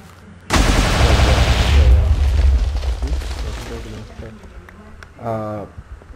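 A TNT cannon fires in Minecraft with a single sudden, loud explosive boom that rumbles away over several seconds. A brief voice follows near the end.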